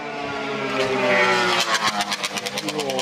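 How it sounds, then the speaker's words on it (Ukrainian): Engine note of a scooter rising and passing close by, loud and steady at first, then breaking into a rapid pulsing burble as it moves on, with no talk over it. "дайте приїхати цьому скутерісту"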